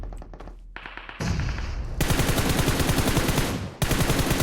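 Machine gun fire in the shooter PUBG Mobile: a few sharp separate shots at first, then loud sustained rapid automatic bursts that pause briefly before resuming, close and dominant with no talk.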